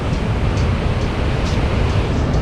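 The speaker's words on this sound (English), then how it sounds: "so we're just going to sit and watch the waves." Ocean waves wash steadily onto the Madeira shore in a loud, continuous rushing roar that never pauses, with no voices over it.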